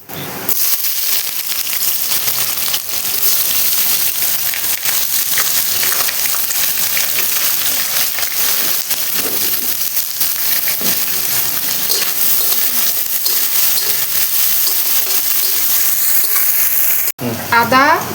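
Onions frying with whole cumin, cardamom, clove and cinnamon, a loud steady sizzle and crackle that runs continuously at close range before cutting off near the end.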